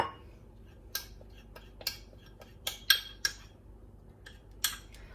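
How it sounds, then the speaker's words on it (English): A metal utensil clinks against a bowl as sugar is mixed into a beef marinade: about six separate sharp taps spaced irregularly over a quiet background, close and fairly crisp. "Just gonna mix everything in together."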